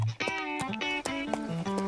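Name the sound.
horse galloping hooves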